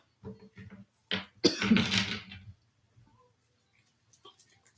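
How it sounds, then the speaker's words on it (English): A person coughs in a brief burst, a loud rough hack followed by a longer raspy spell up close, with quiet pauses and faint breaths around it. "now I'm coughing"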